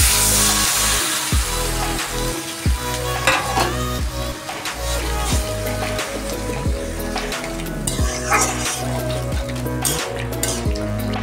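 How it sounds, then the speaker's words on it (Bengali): Chopped vegetables stir-fried in a pan for a dried fish curry: a constant sizzle broken by frequent sharp metallic knocks and scrapes of a spatula against the pan, close and busy. "সবজিগুলো ভালো মতো নাড়াচাড়া করে কষিয়ে তারপর জল দিয়ে দিব।"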